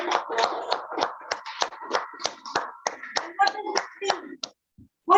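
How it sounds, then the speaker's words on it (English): A room of club members applauds at a Toastmasters club's 20th anniversary meeting in Kuwait, steady clapping for about four seconds that thins out before a brief pause and a fresh burst. "Big round of applause."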